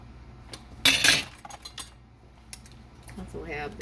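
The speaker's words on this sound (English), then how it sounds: "I'm just going to take my spoon and mix it a little bit" A spoon clinks and scrapes against a container while mixing homemade salad dressing, with a few sharp metallic taps standing out from otherwise quiet, close stirring.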